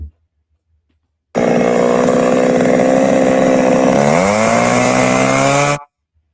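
A loud video-game chainsaw wielded by the Doomslayer drones steadily after a silent start, then its engine pitch climbs sharply near the end before stopping dead, with no talk over it.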